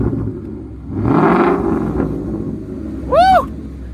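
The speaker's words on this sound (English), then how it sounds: "Let's hear that exhaust real quick" A 2016 Ford Mustang GT with a 5.0 engine and straight-pipe exhaust gives a short, rising rev that swells and fades near the mic, then a brief high-pitched chirp.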